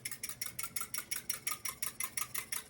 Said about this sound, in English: I want to pour some of this milk in here so I can stir this thing up a little bit